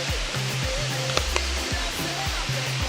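Rincon Waterfall in Trinidad pours with a constant broad roar, close and steady, while faint low droning tones come and go beneath the rushing water.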